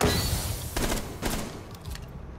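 Gunfire in a ranked online shooter game comes as several short bursts of shots, moderately loud and close over continuous game background noise, with no voices.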